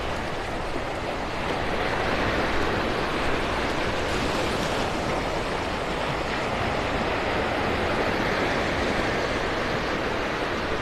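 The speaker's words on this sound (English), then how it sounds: "Waves breaking on the outer edge of the sandbar." Steady, continuous roar of waves breaking on the outer edge of a sandbar at Delnor-Wiggins beach in North Naples, Florida, a broad wash of surf noise with no pauses and no voices.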